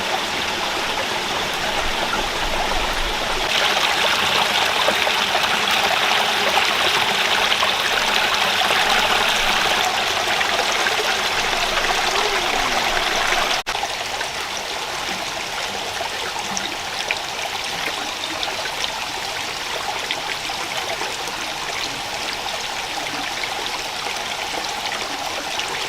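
A rainforest river stream flowing in a steady, continuous rush of water, close and fairly loud, softening slightly partway through but never pausing.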